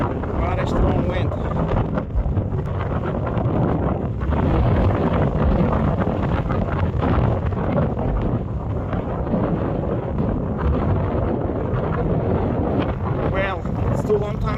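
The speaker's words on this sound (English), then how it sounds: "Very strong wind." Very strong wind batters a microphone near an erupting volcano with lava shooting from the crater, a loud, continuous low rumbling buffet that gusts unevenly throughout with no clear voices.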